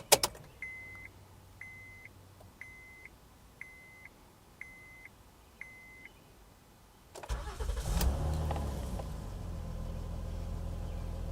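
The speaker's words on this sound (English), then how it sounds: "I can put the key in the ignition and we can listen to that J35A7" Six soft evenly spaced chimes ring inside a quiet third-generation Honda Odyssey minivan, then its J35A7 V6 engine cranks, catches and settles into a steady idle.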